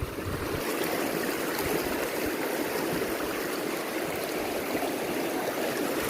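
Cold, clear river water flows in a steady, continuous rushing wash near a tall dam in Romania, loud and close with no breaks or voices.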